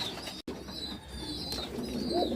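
Pigeons coo softly in a racing pigeon loft, low murmuring calls at a distance over a faint background hum, with a brief dropout partway through.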